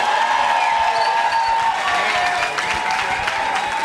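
Audience at a Gong Show community-centre evening applauding the performing artists, sustained dense clapping from a sizable crowd that stays loud and even throughout, with a faint murmur of voices underneath.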